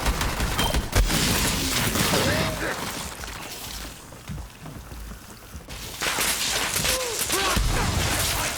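Jakobs shotgun in the Borderlands 3 video game firing heavy, booming blasts in two bursts separated by a quieter lull, with someone talking over the gunfire.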